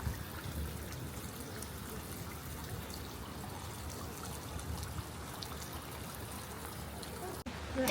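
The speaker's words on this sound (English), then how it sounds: "it's literally pouring down in rain" Heavy June rain pours down outdoors at a safari park in a steady, dense wash of hissing and splashing water that goes on without a break, loud and close.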